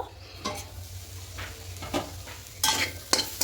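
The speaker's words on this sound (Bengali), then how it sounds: "দেখুন বেগুনটা একদম ভাজা হয়ে যাচ্ছে" Brinjal pieces fry in a kadai as a spatula scrapes and stirs, giving irregular bursts of scraping and clatter over a quiet sizzle, close and fairly soft.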